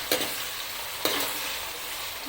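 Onions and tomatoes sizzling in oil in a pan, with two sharp scrapes of a spoon stirring them over a steady close frying hiss; no talking.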